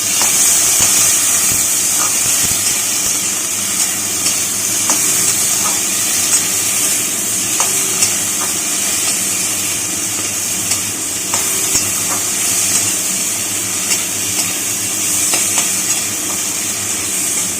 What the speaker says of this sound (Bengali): খুব ভালো করে এবার আমরা নাড়াচাড়া করে নিচ্ছি।